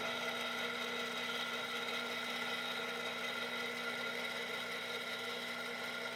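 A Kenwood KR-500 elevation rotator motor runs steadily, a continuous even electric whir with a faint mechanical hum, close and unbroken with no voices.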